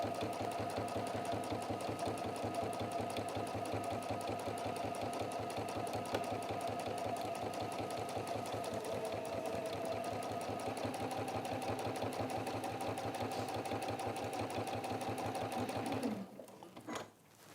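A sewing machine stitching through quilt layers runs as a fast, steady mechanical whir for about sixteen seconds, close and unbroken, then stops abruptly.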